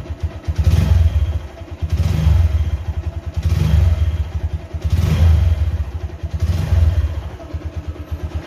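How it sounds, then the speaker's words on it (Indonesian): A Honda CBR motorcycle engine revs on the throttle about five times in a loose rhythm, each rev a loud, rough, close burst that settles back to a clattering idle. "Ini teman-teman dengerin ya, aku gas masih ada suara nginginya nih."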